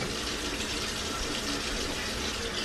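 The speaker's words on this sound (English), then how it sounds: "Gonna add some water." Water poured from a tap into a cooking pot holding rabbit and broth cubes, a steady, close rushing gush that runs evenly throughout with no voices.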